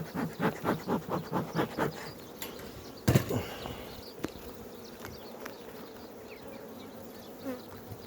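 Honeybees in an opened beehive during an inspection, a close, steady buzzing drone with pulsing wingbeats at first, a sharp clack partway through, then the hum continues more softly.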